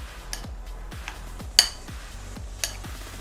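A utensil quickly stirs a salty mixture in a bowl, tapping and clinking against the sides in a fast uneven rhythm of about eight close knocks, with no talking.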